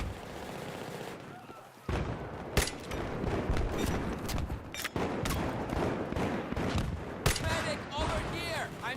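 Repeated rifle fire in Battlefield 3 on PS3, loud sharp shots and bursts cracking over a noisy battlefield din, with a sudden onset after a quieter lead-in and several distinct heavy reports spaced through the clip.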